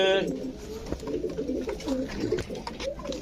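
Pigeons of fancy breeds such as Prince Kamagar coo at a market, repeated low rolling coos close by with someone talking over them.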